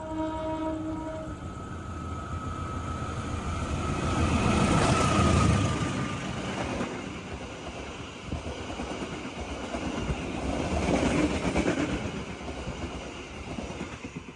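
Serayu Malam train from Purwokerto passing through Kawunganten station, a loud rumble of rolling cars that swells, eases and swells again, with a brief tonal horn-like note at the start.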